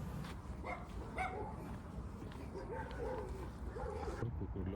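A dog with a small stick in its mouth yips and whimpers a few times amid outdoor background noise by the Danube in Novi Sad, with people talking faintly nearby.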